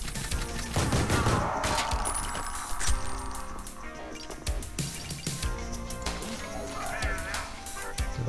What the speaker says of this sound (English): Yeah, it's a turret.